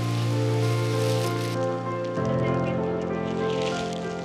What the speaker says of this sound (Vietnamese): Cảnh trời mưa khá là đẹp quý vị ha.